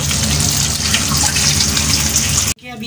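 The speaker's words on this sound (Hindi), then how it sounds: "अभी फ्राई हो रहे हैं कबाब" Kebabs frying in a pan at a home stove give a loud, steady hiss and crackle that runs unbroken for a few seconds, then cuts off sharply near the end.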